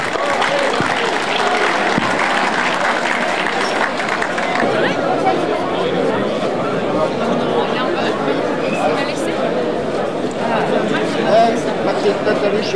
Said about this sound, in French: Félicitations à eux, applaudissons-les.